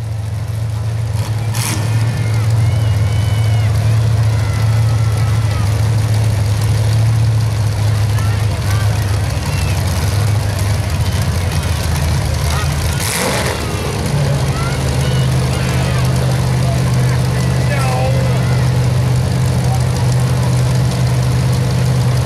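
Full-size demolition derby cars rumble on a county fairground track at night, a steady heavy engine drone with a sharp crash or bang near the middle, under loudspeaker announcing.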